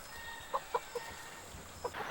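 Free-range chickens roaming a hillside farm of about two hundred birds give several short, moderately close clucks in a loose rhythm over a soft outdoor background.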